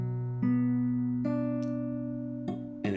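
Guitar barre chord picked one string at a time, each note plucked separately and left ringing so the chord builds up over a few seconds, played solo and close without talk.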